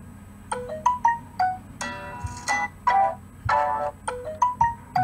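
A ringtone on a Galaxy J7 with the NovaOS Android 7.0 custom ROM plays as a lively electronic melody of plucked notes and denser chord bursts, repeating rhythmically for several seconds with no voices.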